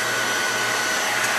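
A hair dryer blowing steadily to dry wet ink on a canvas pillow cover, a loud, constant whooshing whir throughout.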